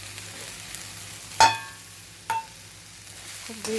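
Fenugreek leaves and coconut fry quietly in a pan for chutney. There is a soft, steady sizzle, and a utensil clinks sharply against the pan twice.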